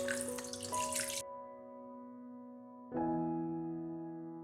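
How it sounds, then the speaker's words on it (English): Ordinary tap water briefly gushes over strained milk curds for kalakand, a short burst of running water that stops after about a second, leaving steady tonal music underneath. "Now we will run it under water. This is normal water."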